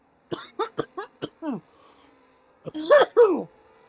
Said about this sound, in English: You will hear me coughing a little bit.